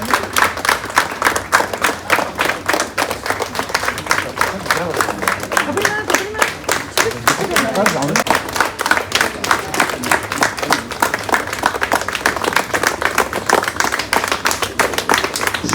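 Loud, sustained applause from a crowd at a school mid-day meal gallery inauguration, dense rapid clapping filling the whole stretch with a voice briefly audible partway through.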